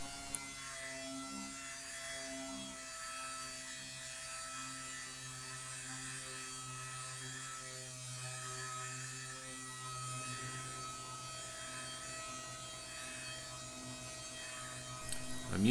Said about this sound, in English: I'm using my DeWalt random orbital air sander here